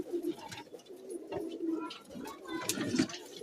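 Domestic pigeons cooing at close range, several soft, low throaty coos repeating through the clip with faint movement and background noise.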